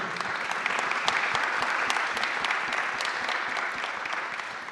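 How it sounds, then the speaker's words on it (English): Steady applause from a conference audience thanking a panel of speakers at a labor-market policy event, dense clapping sustained evenly from start to finish at moderate distance. "Please join me in thanking our esteemed panelists with a round of applause"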